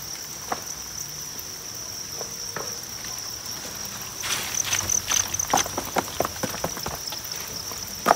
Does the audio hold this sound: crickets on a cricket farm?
yes